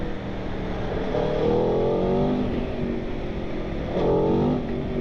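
A 2021 Aprilia Tuono V4 Factory 1100 motorcycle engine revs loudly and close, its pitch sweeping up, dropping back, then rising again near the end, with no voices.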